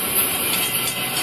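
An FEC freight train passes nearby as a short, even rumbling wash of rail noise with no horn or voices.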